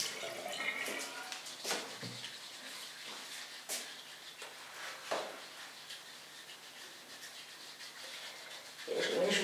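Running water splashes softly and close by while a face and a cleansing brush are wetted, with scattered small splashes and dripping at low level.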